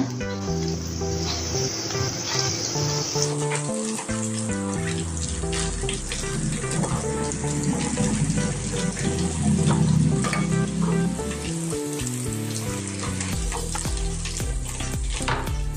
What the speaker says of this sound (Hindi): अपने जो समोसे है इसको अभी हम तलेंगे